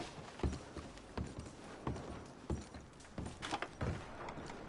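Horse hooves clip-clop in an irregular walking rhythm in a PS4 video game, several distinct hoof strikes spread across the stretch with a faint background hiss.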